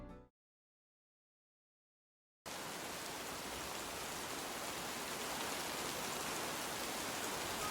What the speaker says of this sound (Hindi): उस दिन तेज बारिश हो रही थी, बहुत जोरों की बारिश।